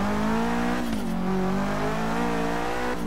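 A car engine in the racing game Forza Horizon 3 drones at sustained high revs, loud and close, with a brief pitch dip partway through as if shifting gear.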